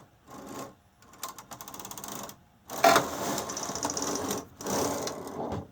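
Brother SK700 knitting machine carriage sliding across the needle bed to knit a row, giving a rattling, clattering mechanical run that comes in several bursts with short pauses between them, heard up close with no talk.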